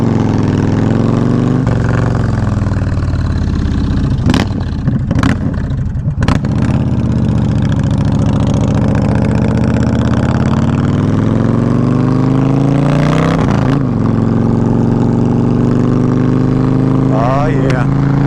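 A Yamaha Warrior 1700 motorcycle carrying two riders runs loud and close, its steady engine drone rising in pitch as it accelerates, with a few brief sharp bursts along the way.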